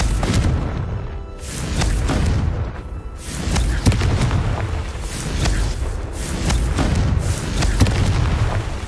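Repeated booming blasts of the Confringo fire spell in Hogwarts Legacy, loud heavy explosions in quick succession filling the clip with rumbling bursts and crackling debris.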